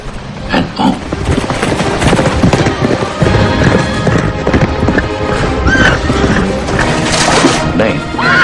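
Horses gallop in a race along a beach, with loud continuous hoofbeats, whinnies and crashing sounds filling the whole stretch, as in a film scene.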